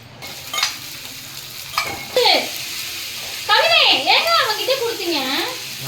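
Masala-coated fish fries in a pan with a steady sizzle in the background, while a voice and other speech rise over it along with a few kitchen clinks.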